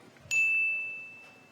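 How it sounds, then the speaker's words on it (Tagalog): A single bright ding from a debate timer bell rings once and rings out with a long fading tail in a quiet hall. "Ang unang bell po ay 10-second mark, so you have 10 more seconds after the first bell."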